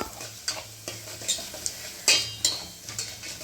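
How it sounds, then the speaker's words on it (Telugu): Dried red chillies, mustard seeds and cumin frying in oil as a tempering for a palak pulusu, close sizzling broken by regular sharp spatula scrapes and taps against the pan, with no speech. "ఎండుమిరపకాయలు వేపుకుందాం ముందు. ఒకటే కొంచెం తాలింపు గింజలు, ఆవాలు, జీలకర్ర, తాలింపు ఫ్రై చేసుకుందాము."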